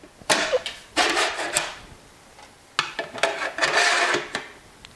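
Metal King Arthur Pullman loaf pan lid sliding onto the pan with a snug fit, giving two or three bursts of bright scraping friction separated by short pauses, close and fairly loud, with no talking.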